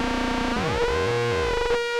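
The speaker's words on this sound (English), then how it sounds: "So we can get some quite extreme cross modulation tones." Extreme cross-modulation tones from the analog engine of a Roland JD-XA synthesizer: a dense, buzzy harmonic drone whose pitches sweep and bend up and down, played alone and loud without talk.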